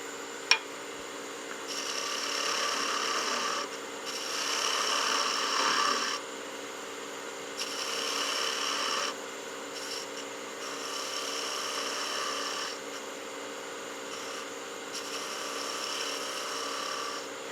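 A skew chisel cuts coves into a spinning workpiece on a wood lathe for gnome Christmas ornaments, giving repeated bursts of hissing, scraping cuts lasting a couple of seconds each, separated by the lathe's steady hum.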